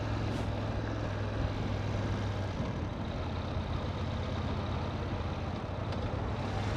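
A BMW F850 GS motorcycle engine hums steadily at a low, even pitch, with a rough rumbling texture, a faint tone shift partway through and wind-like noise, no talking.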